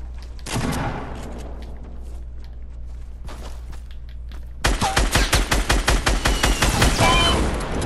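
Shooter game gunfire, loud and close: a few scattered shots at first, then a long, steady automatic burst of evenly spaced rounds.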